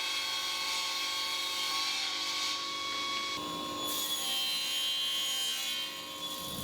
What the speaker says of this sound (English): I can now cut them to width and length on the table saw